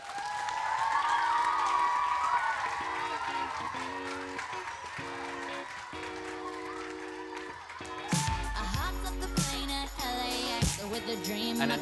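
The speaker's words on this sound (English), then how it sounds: "One more round of applause as they leave the stage." A crowd applauds and cheers as rap battle performers leave the stage, a steady wash of clapping under loud musical tones, with a heavy booming hit near the end.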